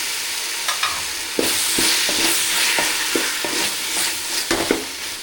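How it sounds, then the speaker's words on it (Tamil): Tomatoes with ginger garlic paste sauté in hot oil for a village-style vegetable chicken curry, a steady close sizzle broken by repeated scraping stirs of a spoon against the pan. "தக்காளியெல்லாம் நல்லா எண்ணெயிலே வதங்கட்டும்"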